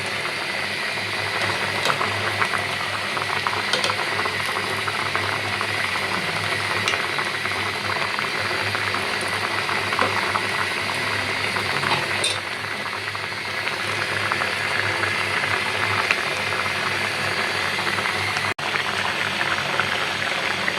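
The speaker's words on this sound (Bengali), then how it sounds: "এই যে আমার পোয়া মাছের তরকারি সুন্দরভাবে হইতেছে" A poa fish curry simmering in a pan, with steady close bubbling and sizzling that runs unbroken throughout, loud and alone with no voices.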